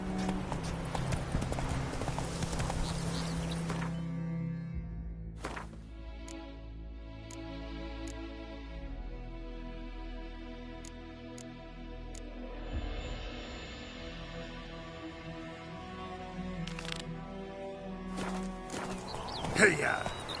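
A horse trots steadily in The Witcher 3, with hoof clip-clops repeating under a game music score, ambient tones and a voice urging the rider on.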